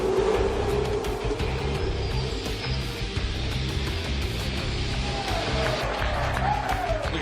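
Race cars in Forza Motorsport 5 launching at the start of the 2013 Bathurst 1000, a loud dense roar of many engines with a pitch rising as they accelerate away, steady throughout.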